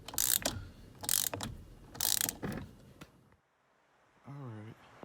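A ratchet loosens a steering wheel bolt on a fifth-generation Chevy Camaro with three short bursts of sharp, close clicking, followed by a pause and a brief spoken word.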